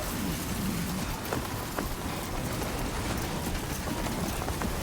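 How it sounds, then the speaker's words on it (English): Heavy in-game rain pours steadily in Death Stranding 2, a dense unbroken roar with faint rumbles of thunder beneath, loud and close with no talking. "Was that lightning?"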